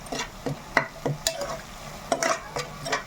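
Slit green chillies hit a hot pan for chicken-feet paya, sizzling steadily while a spoon stirs and clinks against the metal in quick, irregular strokes, close and alone.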